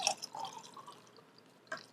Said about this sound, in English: you're gonna pour it in over a cup because it might get a little bit messy